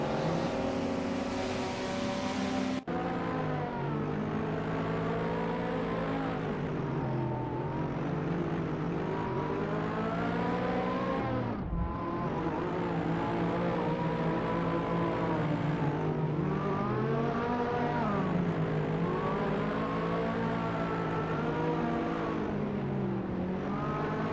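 Race car engines roar in a racing video game featuring a 1994 Alfa Romeo 155 Q4, a continuous loud drone whose pitch rises and falls with shifting and acceleration, with no talking.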